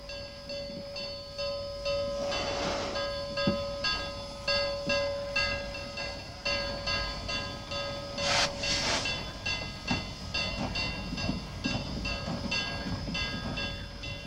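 Two steam locomotives double-head a special train, with steady rolling rumble and hiss, a sustained whistle tone and short louder whistle blasts, heard from a moderate distance.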